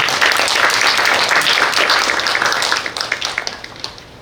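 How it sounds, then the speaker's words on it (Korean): An audience claps at a policy forum on special schools, a dense burst of applause that thins into scattered claps toward the end. "박수 한번 부탁합니다."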